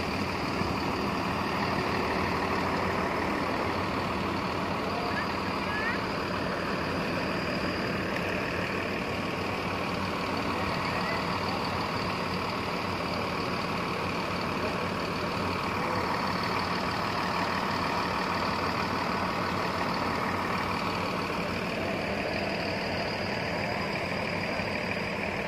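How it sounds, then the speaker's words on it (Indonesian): Several bus engines idle together at Banyuputih bus terminal, a steady low rumble with a constant diesel drone that holds evenly throughout, fairly loud and continuous with no talking. "Ini mesinnya udah dinyalain semua ini teman-teman."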